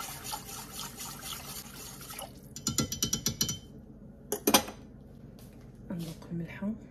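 Cheddar cheese sauce for lasagna is stirred in a pot, giving quick rhythmic scraping and clinking bursts of a spoon against the pan, with a person talking at intervals.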